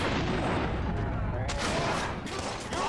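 Gunfire in the Watch Dogs video game, a dense run of loud shots and booms over about three seconds, with some voice mixed in underneath.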